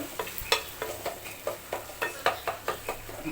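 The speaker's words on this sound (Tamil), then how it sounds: "தக்காளி நல்லா வதங்கட்டும்" Onion and tomato sautéing in a pan, a low sizzle punctuated by quick, regular scraping strokes of a spatula, close and fairly quiet, with no talking.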